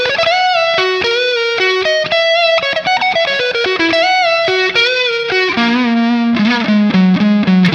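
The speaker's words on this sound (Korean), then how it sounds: "이 앰프 모델은 드라이브를 적당히 걸어줬을 때 좋은 소리가 나는 것 같습니다." Electric guitar through an Enya Inspire smart guitar amp model with moderate drive, playing a quick melodic line of distorted single notes with a slight chorus shimmer, steady and loud, no voices.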